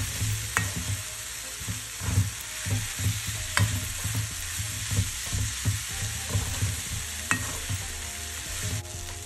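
Chillies frying in oil for a tomato chutney, stirred steadily in a pan: continuous close sizzle with repeated rhythmic scraping strokes of a spoon, and no talking.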